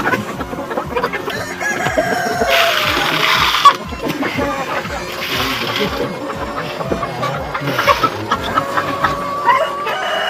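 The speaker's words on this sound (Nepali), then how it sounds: "मुर्गा पनि हेरिसक्यौँ।" Local village chickens and roosters in a rural Nepali poultry farm cluck continuously and loudly, with repeated drawn-out rooster crows rising over the busy flock.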